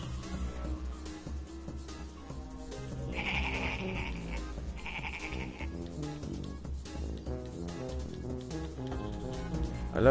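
Sheep in the Dreams PS4 game bleating, several wavering calls over a layered musical game soundtrack, with louder bleats clustered in the middle.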